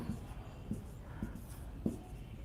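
Chalk or marker strokes on a board tap and scrape in four short, faint bursts, spaced roughly evenly, against quiet room background.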